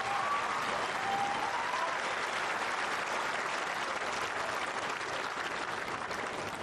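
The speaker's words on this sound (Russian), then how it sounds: "Долгие аплодисменты. Абсолютно заслуженные от зрителей" Tennis spectators give long, sustained applause after a winning point, a dense even wash of clapping throughout with no breaks, heard from within the stands.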